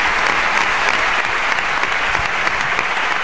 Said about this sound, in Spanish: Antonio José Gómez Díaz, un aplauso para él